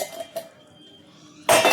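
Two drinking glasses clink and knock against each other in a home kitchen as hot water is poured, a couple of light taps followed by a louder, fuller burst of glass and water at the end, with no talk.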